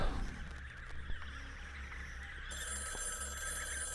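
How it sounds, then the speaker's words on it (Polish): A shrill electronic alarm clock ringing tone in a video game, with a buzzing, bell-like rattle, ringing continuously over a busy game soundscape, loud and close. "Budzik."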